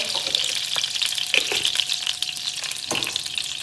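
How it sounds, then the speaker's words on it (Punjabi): Two spoons of desi ghee sizzle in a pan as a tadka for sweet rice, a steady crackling hiss broken by a few sharp stirring scrapes, close and alone. "ਚਲੋ ਜੀ ਹੁਣ ਆਪਾਂ ਇਹਨਾਂ ਨੂੰ ਵੀ ਲਾ ਦਈਏ ਤੜਕਾ"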